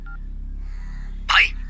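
A single short electronic tone sounds from a phone signalling an incoming call during a Hindi-dubbed South Indian film scene, heard alone over a low steady hum.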